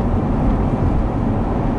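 Deep, steady exhaust rumble from a C7 Corvette running an Edelbrock E-Force supercharger and NPP exhaust, close and loud throughout the short stretch, with no voices.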